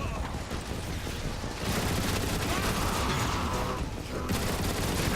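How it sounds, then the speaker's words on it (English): Heavy turret fire in Transformers War for Cybertron, a dense, continuous barrage of loud blasts with mechanical rumble that grows fuller about a third of the way in and stays sustained to the end. "Now we're going to pick up his turret. We're going to use it against the destroyer over there"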